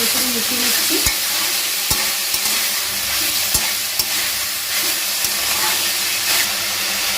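Boiled banana flower fries in a pan with a nigella seed and green chilli tempering, giving a loud, continuous sizzle with occasional sharp knocks of a spatula stirring throughout.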